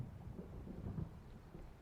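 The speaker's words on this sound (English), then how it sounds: "There's a storm coming." A low, rolling rumble of thunder from a storm approaching in the Alan Wake video game, with a faint hiss of rain over a steady, muffled roar and no clear single crack.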